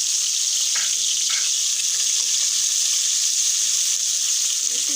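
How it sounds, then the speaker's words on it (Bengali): Onion, onion leaves and green chilies frying in oil as part of preparing a fish dish, a steady close hissing sizzle that runs without a break, with a few faint clinks from the pan. "একটু ভেজে নিচ্ছি।"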